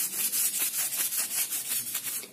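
A cloth with cleaning liquid rubs dirt and grease off a switchboard, a close rhythmic scrubbing of quick, even back-and-forth strokes with no talk.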